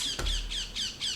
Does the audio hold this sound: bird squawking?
yes